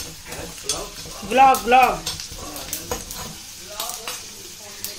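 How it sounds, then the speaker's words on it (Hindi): Spice tempering sizzling in hot oil for a yogurt raita, bursts of crackling frying and stirring with clinks of a pan, while someone talks briefly in between. "तो ये हमने दही को लगा दिया तड़का मस्त बढ़िया सा।"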